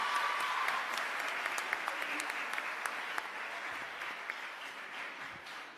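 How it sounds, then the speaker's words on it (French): Sustained crowd applause from an audience honoring the Mama Africa troupe at a Fondation Youssou Ndour event, dense and steady throughout with scattered sharper claps, gradually easing toward the end. "Encore un tonnerre d'applaudissements pour eux, ils le méritent."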